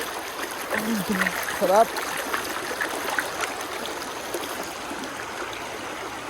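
Clear stream water flows steadily where people bathe outdoors in nature, a constant rushing murmur with birds chirping and a voice speaking briefly over it.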